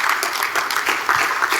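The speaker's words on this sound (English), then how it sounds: "So I'd like you to give a round of applause, people, and welcome to Joseph Roberts to the stage." Audience applause welcoming a poet to the stage at a conference, a steady wash of many hands clapping that fills the room, loud and continuous with no voices over it.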